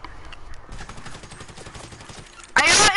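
Pistol fire in a multiplayer shooter, scattered sharp shots under ongoing voices, ending in a loud burst of overlapping gunfire.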